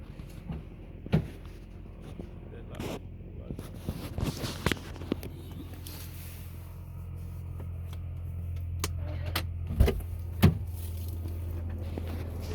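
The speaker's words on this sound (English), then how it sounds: "Another common problem with these are the motors, seat motors." An electric seat motor in a project car runs as a steady low mechanical hum for several seconds, with scattered clicks and knocks around it.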